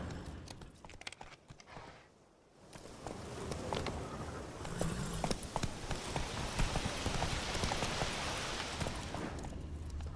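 Roach, a horse in The Witcher 3, trots with steady clip-clop hoofbeats over a busy outdoor ambience, fairly close and rhythmic after a short quieter pause early on.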